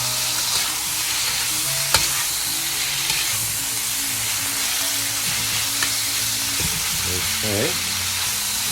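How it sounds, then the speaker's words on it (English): Beef slices stir-frying in hot oil for bistek Tagalog, a steady sizzle with scraping stirs and a sharp clack near two seconds; a voice speaks briefly. "Stir them up, make sure everything is coated by this oil."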